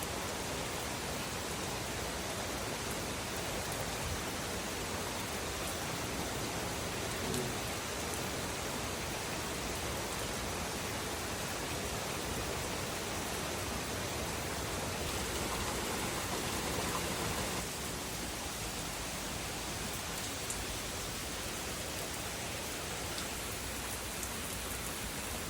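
Steady rain falling outside, a dense, even hiss of drops on surfaces that continues unbroken and fairly close throughout.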